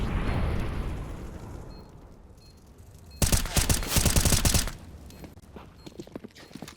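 Rapid gunfire bursts ring out during a competitive Counter-Strike match in the HCG Masters Swiss stage, a dense loud volley in the middle of the stretch, with scattered shots, footsteps and game noise before and after.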